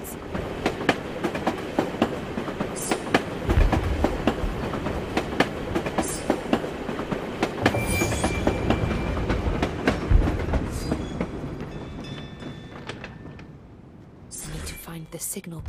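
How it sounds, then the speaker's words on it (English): A tram in the video game Assassin's Creed Chronicles: Russia rolls along rails with rhythmic clickety-clack beats and occasional metallic squeals, fading out near the end; voices speak over it. "This tram will take me to the edge of the Volga."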